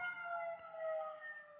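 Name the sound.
ambulance siren passing by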